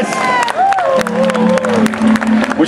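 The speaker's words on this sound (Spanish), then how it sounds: "yo quiero que ustedes le den un fuerte aplauso a nuestro honorable alcalde del municipio de Aguabuenas" Crowd at an outdoor salsa, bomba and plena festival in Aguas Buenas applauds and cheers for the town mayor, with steady clapping and shouts, while a voice and tonal music carry faintly beneath the noise.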